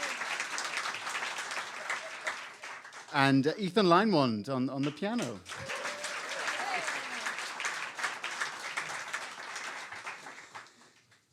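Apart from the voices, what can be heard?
audience applause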